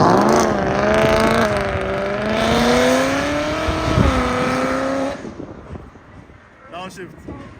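A McLaren 720S sports car revs hard, its engine note rising and falling through gear changes before cutting off sharply, loud and close, with people cheering and shouting over it.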